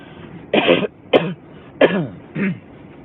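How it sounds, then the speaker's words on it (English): Four separate coughs, harsh and close, spaced roughly half a second apart with quiet gaps between them. "sorry about the cough"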